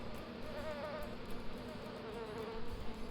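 Bees buzz steadily around hives in the video game A Tale in the Desert, a continuous close insect drone with wavering pitch that holds throughout.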